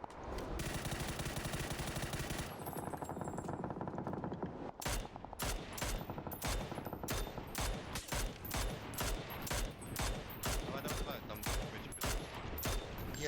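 Gunfire in the video game PUBG on the Miramar desert map: rapid automatic bursts and repeated sharp shots in quick succession, loud and dense, with a few brief gaps between volleys.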